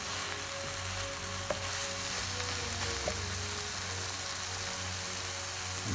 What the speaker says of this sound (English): Give it all a mix so the potatoes come out from the bottom.